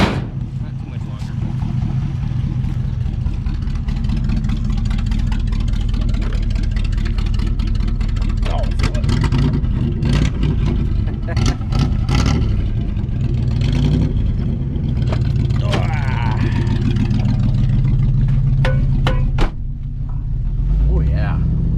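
A 1966 Buick Skylark engine runs steadily with a loud, continuous rumble, rising in a few revs and sharp bursts, close by and warmed up, while people talk over it throughout.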